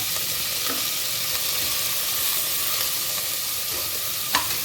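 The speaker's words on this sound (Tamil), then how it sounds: "வெங்காயம் நல்ல பொன்னிறமாக வதங்கட்டும்." Green chillies and onions frying in oil for tomato rice, a steady sizzle under occasional scraping stirs and light clicks of a spoon against the pan, with no talking.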